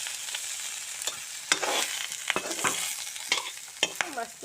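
Ingredients for a sour fish dish with ginger and garlic sizzle gently in a pan while a spoon stirs and scrapes against it in repeated uneven strokes, close up, with no talking.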